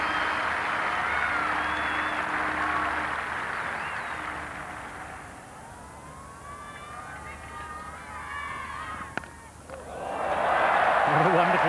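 A warm round of applause from the crowd at Old Trafford cricket ground during a 1994 Test match against New Zealand, broad and steady, thinning midway then swelling again near the end, with faint voices mixed in.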